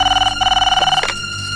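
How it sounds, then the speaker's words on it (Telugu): A telephone rings loudly in repeated rapid trilling bursts during a call to a home phone, then cuts off with a click and faint handling noise. "పద శ్రీగడి ఫోన్ చేద్దాం."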